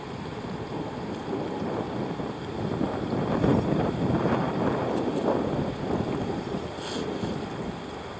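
Steady wind rushes across the microphone on a river during whitewater tubing, a continuous blustery roar with gusts swelling near the middle, no voices.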